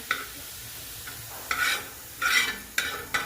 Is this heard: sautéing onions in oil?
yes